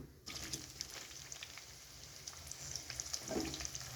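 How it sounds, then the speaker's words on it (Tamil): Bitter gourd pieces fry in hot oil on a stove, a faint, continuous crackling sizzle with scattered pops and a brief louder burst near the end, no voices. "அடுப்பில் எண்ணெய் காயுது. இதில் கொஞ்சமாக பாவக்காய் போட்டுக்கலாம்"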